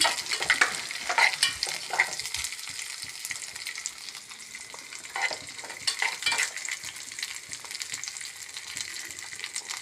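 Cashew nuts frying in a pan of ghee for a bottle gourd and sabudana kheer, with bright crackling sizzle and repeated scraping stirs of a spoon against the pan, loud and close, with no talk.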